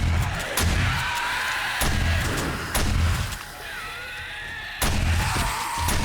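Gunfire from the 7 Days to Die video game, aimed down at spiders during an Alpha 19 horde night: a run of loud, heavy shots spaced roughly a second apart, each with a booming low end, over a steady game background.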